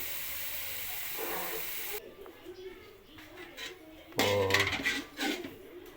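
Frying food in hot oil, a third and fourth batch in a home kitchen, with bursts of hissing and bubbling sizzle, then clattering spatula and pan noises that swell near the end, under quiet background sounds.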